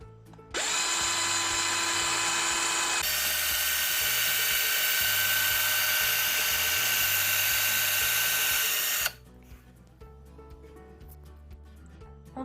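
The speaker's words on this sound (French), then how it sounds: "Maintenant, on va pré-percer notre branche." Power drill pre-drilling a hole in a wooden branch, a high steady whine that starts, shifts pitch partway through, runs about eight seconds close up, then stops.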